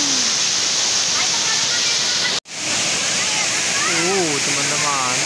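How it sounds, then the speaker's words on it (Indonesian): Heavy rushing roar of the Curug Cigentis waterfall in Karawang, loud and constant, briefly cut off once, with a voice talking over the torrent near the end. "Airnya lagi deras teman-teman."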